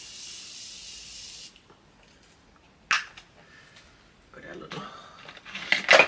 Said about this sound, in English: So I am using the Morphe setting spray.